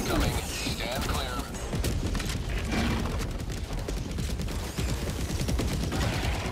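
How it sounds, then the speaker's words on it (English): Orbital barrage in Helldivers 2 pounding the ground, a dense, continuous run of loud crashing blasts and rapid impacts overlapping with no break, with voices mixed into the din. "Orbital barrage incoming."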